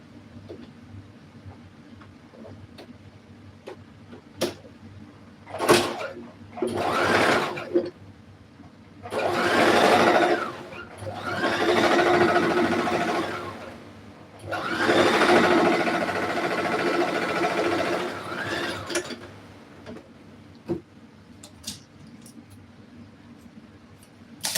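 Close by, a sewing machine stitches a pair of pants in several bursts of a few seconds each, its motor whirring and speeding up and slowing down, with small clicks and handling noises in the pauses.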